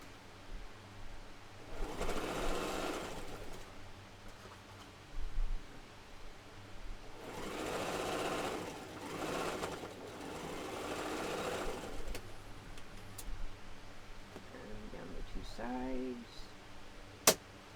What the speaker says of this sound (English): and then just sew all the way around.